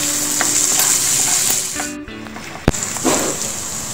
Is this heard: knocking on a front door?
no